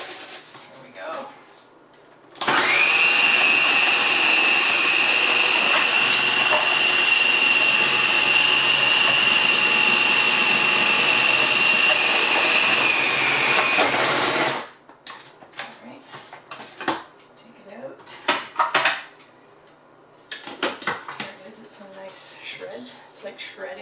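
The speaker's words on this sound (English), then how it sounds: "I'm just going to make a bit of noise and let it finely slice the collard." A food processor finely slicing collard greens whirs loudly and steadily for about twelve seconds with a high whine, then stops, leaving scattered clatter and handling noises.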